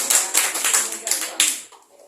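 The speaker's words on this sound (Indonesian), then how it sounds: "Tepuk tangan untuk Tuhan Yesus" Sparse clapping from a church audience answering a call to applaud God, a few distinct rhythmic claps in quick bursts that fade out after under two seconds.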